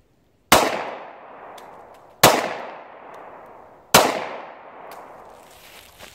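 Three sharp gunshots from a German P08 Luger pistol, fired one at a time about two seconds apart, each a loud crack followed by a fading ring, with a faint click between shots.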